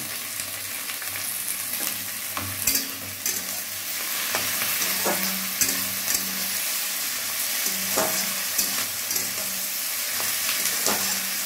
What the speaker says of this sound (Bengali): দিয়ে দিচ্ছি টমেটো কুচিটা